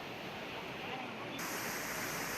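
The flooded main waterfall at Courtallam in Tenkasi district roars as a dense, continuous rush of water, steady and enveloping, with the level swelling slightly partway through.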